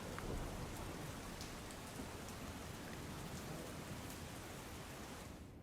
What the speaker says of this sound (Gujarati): સતત વરસી રહેલો વરસાદ હવે મેઘ મહેર નહીં પરંતુ કહેર વરસાવી રહ્યો હોય તેવું લાગી રહ્યું છે